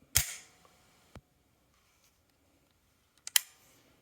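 Dry-firing an HK USP Elite .45 pistol in single action: a sharp, close trigger snap, a fainter click about a second later, then a quick double click near the end, with quiet between and no talking.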